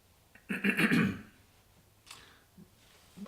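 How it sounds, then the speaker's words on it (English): A single short, throaty cough sounds nearby, fairly quiet, followed by a few soft breaths. "That little cough, mucosal buildup."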